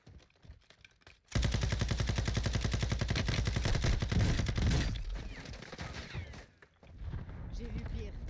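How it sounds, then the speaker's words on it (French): Sustained automatic gunfire from a video game battle on a caldera map, a loud rapid burst lasting several seconds that then thins into scattered shots and rattling, with players talking over it. "Ça tire sur la colline, Heather"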